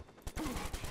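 A single gunshot in the video game Watch Dogs cracks out near the start, followed by a sustained loud burst of fire or commotion for the rest of the moment.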